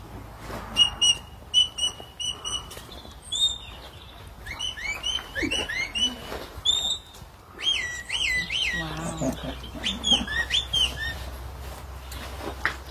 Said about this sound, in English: far easier to communicate by whistle